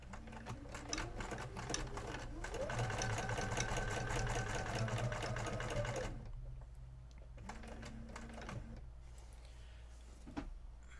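A sewing machine stitches through quilting fabric in a fast, steady mechanical clatter that speeds up and holds, stops briefly, then resumes in shorter bursts, close and clear with no voices.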